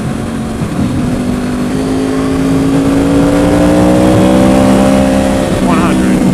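A Yamaha motorcycle engine revs as it accelerates, its rising tone climbing steadily over a loud, constant wind roar, with a voice speaking over it.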